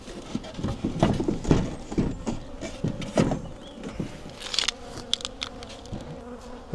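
Honey bees swarm around an open hive, a steady, close insect buzz with scattered knocks and handling clatter mixed in.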